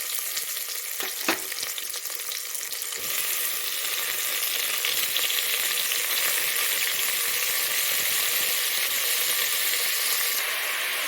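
Chopped tomatoes go into a pan of frying onions, garlic and curry leaves, giving a loud, steady, close sizzle with a brief clatter near the start and a continuous hiss throughout.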